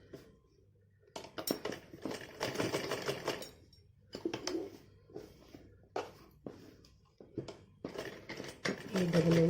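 Sewing machine stitching fabric for a child's dress, in several short bursts of rapid whirring separated by pauses, with someone talking between and over the runs.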